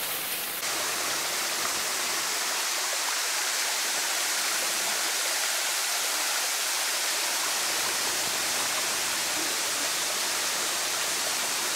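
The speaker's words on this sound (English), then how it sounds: "that little waterfall and the swimming hole" Small waterfall pouring into a swimming hole in Litchfield National Park, a steady broadband rush of falling water, close and continuous with no voices.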